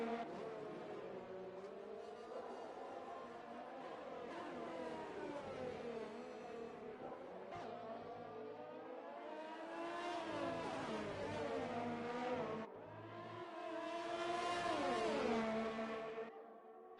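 F1 race cars, an Alfa Romeo and a Ferrari, roar at full speed in a racing video game at the Belgian circuit, with steady engine whine rising and shifting in pitch as one car passes the other.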